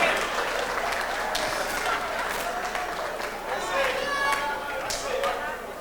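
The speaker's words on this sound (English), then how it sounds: "Give him another round of applause." Audience applause at a 1999 comedy show, a dense wash of clapping that holds steady for several seconds with voices and cheers mixed in.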